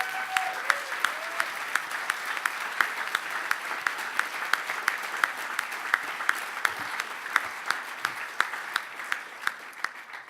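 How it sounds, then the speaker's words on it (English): Round of applause from an awards-ceremony audience, steady clapping with sharp individual claps standing out, sustained for about ten seconds; a brief voice is heard at the start. "Please give them a big round of applause."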